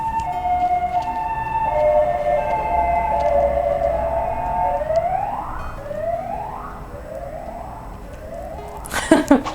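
A wailing ambulance siren sweeps up and down repeatedly, fairly close and loud, ending with a burst of clattering noise.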